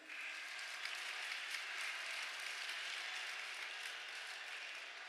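A church congregation claps in steady, even applause that sounds faint and distant, a soft wash of hands that holds throughout without a break.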